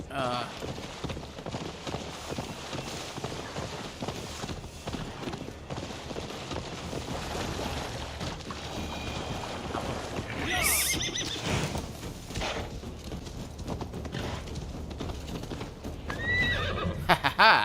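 A horse neighs and hooves clatter at a gallop amid busy game ambience in Assassin's Creed Valhalla, with a voice speaking over parts of it.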